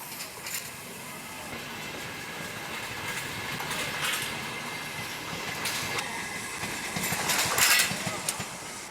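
A steam passenger train rolls past steadily at La Encina, Spain, with a continuous rumble and rattle and occasional higher metallic squeals toward the end.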